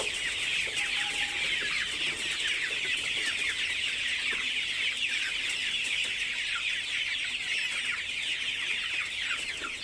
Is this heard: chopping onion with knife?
no